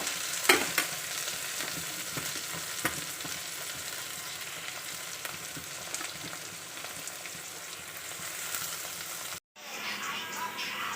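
Ginger garlic paste sizzles and crackles in a pan while a spoon scrapes and stirs it, a steady close frying hiss with occasional knocks and a brief dropout near the end.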